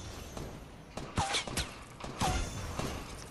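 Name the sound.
gunfire in the video game Fortnite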